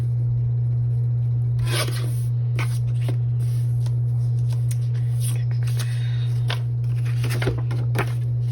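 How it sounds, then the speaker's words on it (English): A small paper cutter slices white margins off sheets of paper, with several short crisp cutting and sliding strokes over a steady low hum. "So I'll grab my little paper cutter here"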